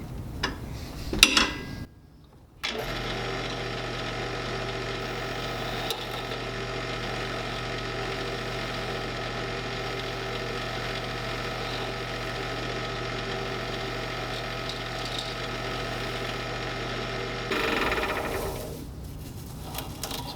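A wood lathe spins an Alumite pen blank under an Easy Wood carbide tool, giving a steady mechanical hum with faint rhythmic ticking that starts after a brief pause and runs evenly before winding down.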